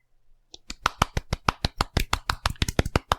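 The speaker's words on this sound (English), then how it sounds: "Golf clap." A soft, polite golf clap: about eighteen light, evenly spaced hand claps in a steady rhythm, close and fairly quiet, starting after a short silence.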